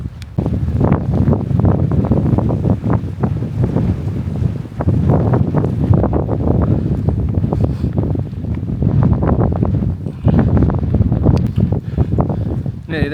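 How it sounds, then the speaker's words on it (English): Strong, gusty wind buffets the microphone outdoors on a hillside in Northumberland, a continuous rough roar that surges and eases in waves. "Wind's picking up a bit now. It's nipping wind, nipping."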